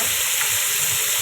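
Chicken pieces fry in a pan with spices as they are stirred, giving a steady close sizzle with no talking over it.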